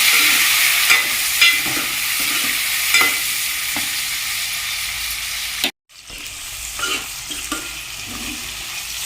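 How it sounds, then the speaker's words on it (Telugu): Tomato, onion and green chili fry in hot oil with a steady, close sizzle and periodic stirring scrapes, cut by one brief total dropout before the sizzling resumes. "తర్వాత అదే ఆయిల్లో టమాటా, ఉల్లిగడ్డ, మిర్చి వేసుకోవాలి."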